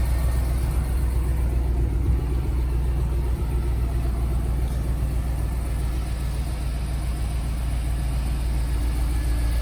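A GMT800 GMC Sierra 1500HD with a 6.0L V8 idles with its exhaust cut just before the stock muffler, giving a steady, deep, rumbling drone close by with no talking.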